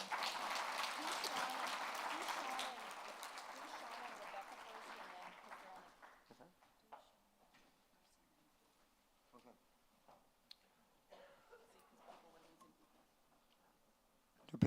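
An audience claps for a speaker at a live event, steady applause for about five seconds that fades out, leaving a quiet room with scattered small knocks and rustles.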